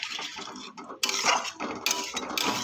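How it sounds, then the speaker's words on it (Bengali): Water is poured into a cauliflower curry in a pan, giving a rushing, splashing pour with metallic clinks and scrapes of a utensil against the pan, close and moderately loud. "এবার আমি এর মধ্যে জল দিয়ে দেবো"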